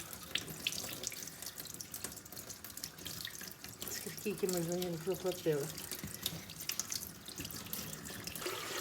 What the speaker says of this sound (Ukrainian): Набираємо води і кладемо